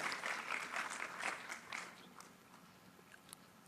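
An audience at an Indian Army school quiz applauds the winning teams, with dense clapping that thins out after about two seconds into scattered claps.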